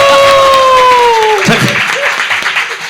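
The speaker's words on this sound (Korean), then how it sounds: "여러분 큰 박수 부탁드립니다." A studio audience at a live public broadcast breaks into applause after a quiz answer, clapping and crowd noise swelling beneath a host's sustained voice, which drops away before the clapping continues.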